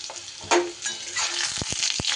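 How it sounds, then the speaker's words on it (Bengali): Fried potato and eggplant pieces dropped back into hot oil tempered with five-spice, a sudden sizzle and a few sharp clicks of a spatula, brief and close. "ফোড়ন থেকে সুন্দর গন্ধ বেরোলেই ভেজে রাখা আলু বেগুনটা আমি আবারও তেলের ওপরে দিয়ে দিলাম।"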